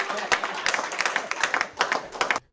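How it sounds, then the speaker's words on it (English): A small group of kids clapping, quick uneven claps at close range over a couple of seconds, with a voice speaking over them before stopping abruptly. "Oh, look at the little white ESA kids clapping."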